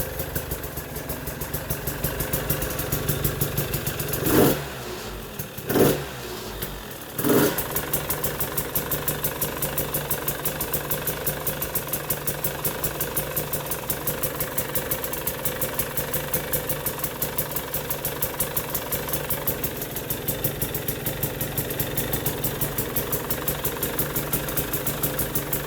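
A KTM 300xc TPI two-stroke dirt bike, recovering after being drowned, idles steadily with a fast even putter, broken by three short blips or stumbles early on, then settling back into a constant idle, close up with no talk.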